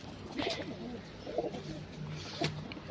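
Pigeons in a loft give soft, low coos, a few separate calls spaced across a quiet, faint background.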